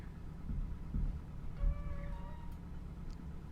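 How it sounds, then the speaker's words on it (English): Brakes of a Cessna C172 light aircraft in a flight simulator give a brief tonal squeal of a few stacked pitches lasting about a second, moderately loud over a steady low engine rumble. "Nice squeal of the brakes there."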